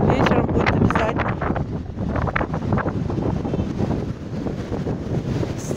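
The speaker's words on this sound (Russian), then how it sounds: "Дрожат от ветра канаты." Strong storm wind roars at a beach in Nha Trang, buffeting the microphone in loud continuous gusts with surf and waves churning beneath, no pause across the stretch.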